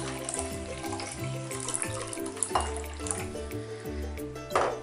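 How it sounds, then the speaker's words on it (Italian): Boiling water poured from a kettle over dry couscous in a home kitchen makes a steady splashing stream that lasts the whole time, with background music running underneath. "Prendiamo il nostro couscous, andiamo a ricoprirlo di acqua bollente."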